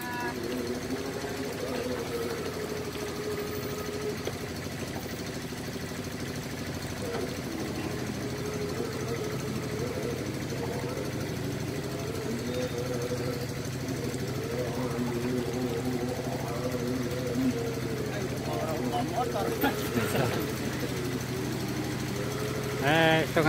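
Motorcycle engine idling and running steadily beside a river, a constant mid-pitched hum with knocking texture throughout, with some talk and clatter near the end.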